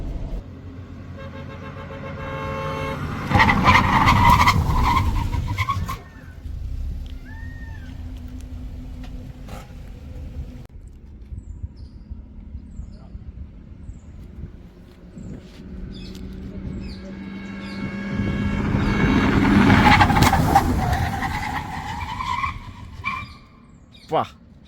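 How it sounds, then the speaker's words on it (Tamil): Car tires skid during a sudden emergency braking test from 120 km/h, with two loud, drawn-out squealing skids about fifteen seconds apart and quieter road rumble between them. "நான் 120ல பிரேக் அப்ளை பண்ணேன்."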